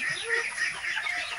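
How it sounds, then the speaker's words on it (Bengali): Local village chickens on a small farm clucking and chattering together in a steady, close mix of bird calls, with no speech. "এগুলো কিন্তু লোকাল মুরগি,"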